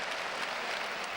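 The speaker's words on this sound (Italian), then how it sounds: "Applausi sia del pubblico di Parma che dei tifosi del Catania" Supporters of both Parma and Catania applaud together in a football stadium, a brief, steady burst of clapping from a distant crowd.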